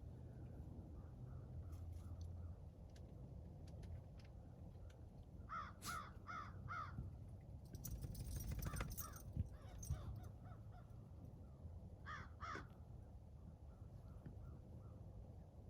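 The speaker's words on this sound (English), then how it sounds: "We're having some crow conversation." Several crows caw in short bursts and clusters, moderately near, over a steady low background hum, with no talking.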